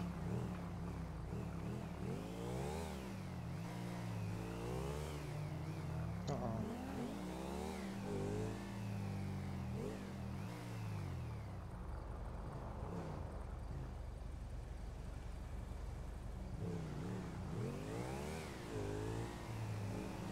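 In the FiveM video game, a car engine revs and accelerates with rising and falling pitch sweeps, loud and close, while someone talks over it intermittently.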